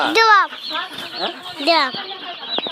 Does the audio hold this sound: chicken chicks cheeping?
yes